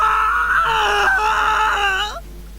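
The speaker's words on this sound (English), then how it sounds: "he opens his mouth to let out a hoarse scream" A character in the visual novel DRAMAtical Murder lets out a hoarse, strained scream, held for about two seconds with a wavering pitch before it cuts off abruptly.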